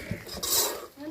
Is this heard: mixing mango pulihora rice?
yes